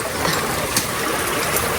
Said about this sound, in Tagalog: Mabilis po ang paglabas ng tubig dito.